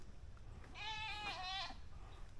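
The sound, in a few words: goats bleating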